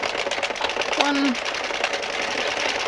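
An Addi knitting machine cranks rows of yarn for a striped winter scarf, giving a steady mechanical clattering whir with a brief squeak partway through.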